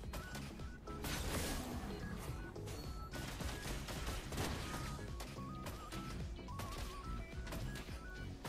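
Granger's rapid gunfire rattles through a Mobile Legends match, dense and continuous over layered game music and effects, loud and unbroken throughout.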